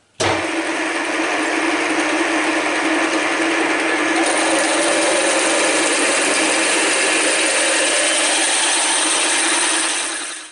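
A Deckel milling machine runs steadily, with a dense continuous mechanical grinding and ratcheting drone while a 12 mm two-flute end mill plunges into a hole in a table support part, loud and close from start to finish.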